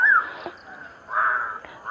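A crow caws close by in the evening, giving two harsh, drawn-out calls separated by a short pause.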